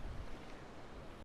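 Small, calm sea waves wash softly at a Vizag beach, a faint and even surf hiss with light wind, quiet and continuous, cutting off abruptly at the end.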